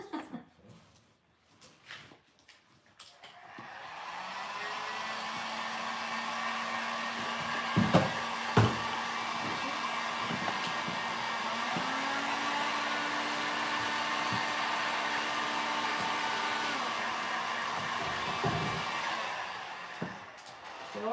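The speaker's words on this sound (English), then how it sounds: "as I'm drying the pigments off, it's getting my WoodUbend nice and warm again" A hair dryer blows warm air to dry pigments on WoodUbend moulding, a loud steady whir that starts after a few seconds and holds, with brief clicks and some talk and laughter nearby.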